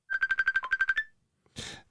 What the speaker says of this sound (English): It does seem to be on constant ring, doesn't it?